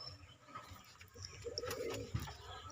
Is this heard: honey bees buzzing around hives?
no